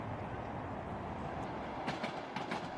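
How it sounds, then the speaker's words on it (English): Heard from inside a Trans-Siberian train crossing Siberia, a steady low rumble and rattle of the moving carriage carries on throughout, with faint wheel clicks and no talking. "Our train is now traveling through Siberia towards Novosibirsk."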